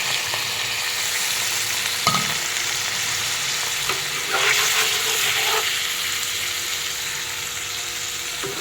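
Fish curry with jika (ridge gourd) frying in a pan on a gas stove as water is added, giving a steady close sizzle with brief splashy bursts and occasional scrapes of stirring.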